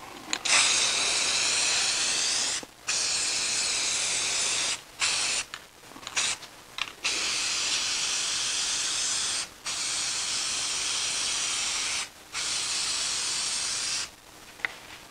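A spray can lays down a coat of gloss black on a picture frame in repeated bursts of steady hiss, each lasting a second to a few seconds, separated by short pauses.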